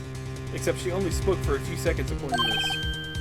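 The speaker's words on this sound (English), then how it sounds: "Or the phone ringing just now, one of those newfangled ringtones." A modern electronic ringtone from a phone in the Ace Attorney video game chirps in a quick repeating melodic pattern, layered over steady game music while someone speaks throughout.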